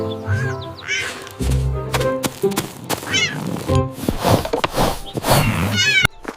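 Small cartoon cat meows repeatedly in bright, expressive calls, loud and close, with a few thumps and some duck-like quacking notes mixed in over a busy backing.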